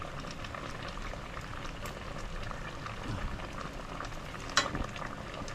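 Paksiw simmers over low heat in vinegar alone, with no added water, making a soft, continuous bubbling with light sizzling and one brief clink near the end.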